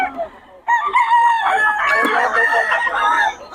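A young rooster crows loudly and close by at a poultry market, one long wavering call following a brief cluck, with faint background voices.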